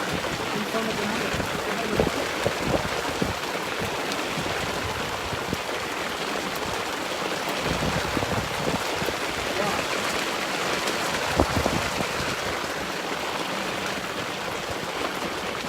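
Heavy rain pours during an African storm at Mahali Mzuri, a dense, continuous hiss of drops on leaves and surfaces, loud and close, with a few brief splashes standing out.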